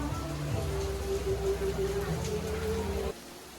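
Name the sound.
rain falling in Singapore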